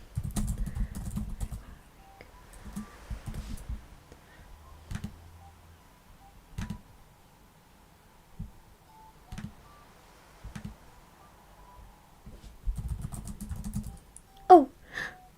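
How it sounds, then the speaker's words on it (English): Bursts of typing on a computer keyboard, clattering key clicks in uneven runs with pauses between, close and fairly quiet in a room during a live chat session. "You can hear me typing?"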